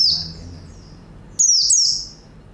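Small white-eye songbird chirps in two bright bursts of high, thin twittering, the second louder and busier, heard alone without voices.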